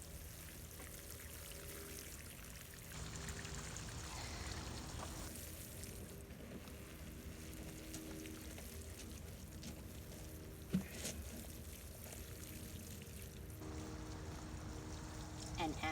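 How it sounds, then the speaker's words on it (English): Water pouring onto sweet potato slips in a container, a steady splashing trickle that stops and restarts, close by with faint background noise. "Just get them nice and watered."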